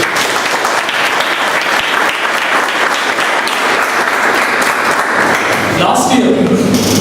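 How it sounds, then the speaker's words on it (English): Sustained applause from a large crowd, dense and steady throughout, with a slight swell near the end. "Let's have a round of applause."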